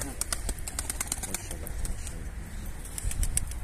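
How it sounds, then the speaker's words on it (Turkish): A flock of pigeons takes to the air above a rooftop loft, with repeated fluttering wingbeats and faint bird calls over a low outdoor background, and someone talks briefly underneath. "Kuşlar havada."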